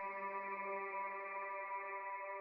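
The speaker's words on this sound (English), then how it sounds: "I took a cymatics one-shot vocal and like I threw a shit ton of reverb on it, and it sounds like this." A Cymatics one-shot vocal sample drenched in heavy reverb holds a single sustained, harmonically rich tone that stays smooth and even throughout, sounding washed-out and echoing with no other sounds around it.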